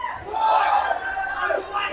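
A professional wrestling crowd at a 30th anniversary event roars and yells together in a loud, sustained mass of voices that swells and then eases slightly.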